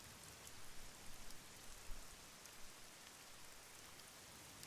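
Steady rainfall in the rainy sci-fi city of Master Detective Archives: Rain Code, a faint, even hiss of drops on surfaces with no voices.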